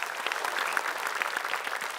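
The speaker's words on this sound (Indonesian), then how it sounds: "Tepuk tangan sekali lagi." An audience at an Indonesian talk show bursts into steady applause, many hands clapping together in a dense, even roar that fills the whole moment.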